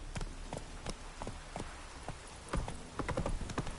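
Roach, Geralt's horse in The Witcher 3, trots along with irregular, fairly close hoofbeats that quicken and grow louder toward the end, set against soft game ambience.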